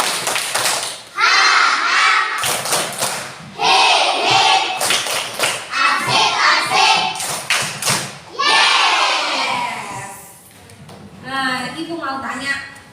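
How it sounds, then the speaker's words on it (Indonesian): A primary school class performs the 'tepuk semangat pagi' morning-spirit clapping chant, with sharp rhythmic claps and thumps mixed with loud children's chanting voices, the pattern repeating in bursts throughout, followed by a teacher talking. "kita tepuk semangat pagi dulu. Oke, tepuk semangat pagi"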